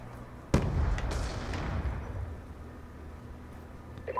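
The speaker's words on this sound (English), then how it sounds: "Throwing grenade!" A grenade goes off in Call of Duty: Black Ops 2 gameplay, a single sharp, loud blast followed by rumbling debris that slowly fades out.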